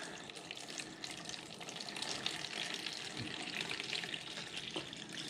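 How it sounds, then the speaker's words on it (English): Water poured into a sourdough bread mixture in a kitchen, a faint steady trickling stream running throughout with no talk. "Then we're going to add our water, and we want 620 grams of water,"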